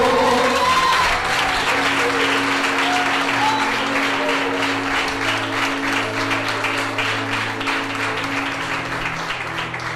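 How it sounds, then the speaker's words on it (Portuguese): Steady applause from a church congregation honoring the name of the Lord fills the space, continuous dense clapping with a sustained tonal note, likely organ or keyboard, humming underneath throughout. "Se a igreja acredita, aplauda o nome do Senhor"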